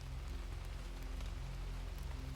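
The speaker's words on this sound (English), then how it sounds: "the only sound in the room was the soft patter of rain on the great window behind him" Soft, steady rain patters on a large window, a quiet, even wash of drops with no voices.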